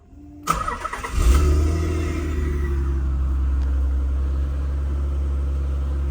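A 1998 Nissan Fairlady 300ZX twin turbo engine cranks briefly and catches, then settles into a steady, loud, low idle rumble close by, with no talking.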